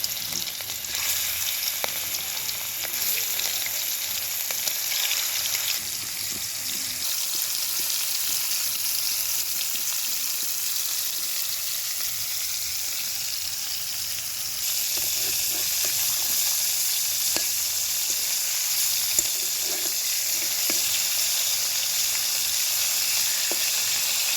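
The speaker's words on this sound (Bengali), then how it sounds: "তেলটা যে গরম হয়ে গেছে দিয়ে দেবো মাংস মুরগির গোস্ত দিয়ে দিলাম" Chicken meat frying in hot oil in a pan, a loud, steady, close sizzle that hisses on without a break and gets a little stronger partway through, with no voices.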